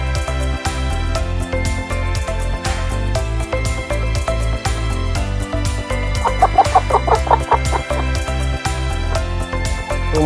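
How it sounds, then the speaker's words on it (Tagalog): Hens near laying age clucking steadily at close range in a poultry yard, with a rooster crowing partway through and no talk over them. "mga inahin na to, lapit na po itong mangitlog"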